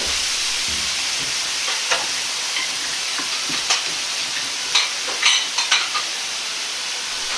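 Carrots stir-fry in a pan after water is poured in, making a steady loud sizzle and hiss broken by scattered clinks and scrapes of stirring.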